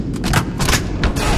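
Gunfire in the video game Halo Reach, a quick run of sharp shots over about a second and a half, loud and close with booming low end.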